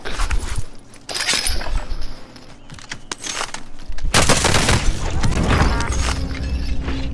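Shotgun blasts and automatic gunfire in the video game Warzone, loud, rapid bursts with sharp booms and crashing impacts that crowd the clip, with no voices.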